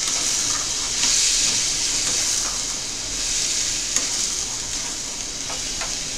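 Green pea paste and potatoes frying in a pan while being stirred, a steady close sizzle with occasional soft scrapes and clicks of the utensil, no talking.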